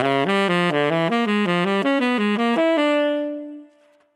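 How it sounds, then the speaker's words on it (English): Ascending diminished jazz line on horn, built from whole steps, played as a continuous run of stepped notes climbing steadily, loud and close, with the final note held and ringing out alone. "So now let's try an ascending line with these whole steps."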